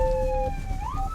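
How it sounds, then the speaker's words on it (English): Ambulance siren from a UK emergency response, heard as a steady wailing tone that shifts pitch near the end, sounding somewhat distant under the surrounding noise. "So can they hear the sirens?"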